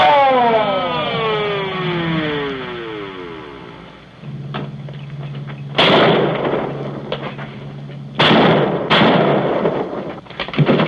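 Gunfire as men open fire, loud sharp blasts breaking in around 6, 8 and 9 seconds with ringing decay, after an earlier wailing, sweeping siren-like tone and a steady low hum.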